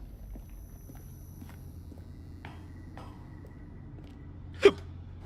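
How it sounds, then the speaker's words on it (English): A single sharp hiccup stands out loud and alone near the end, over a faint, steady game-ambience hum with soft scattered footstep-like ticks. "I've had the hiccups for like 18 billion years today"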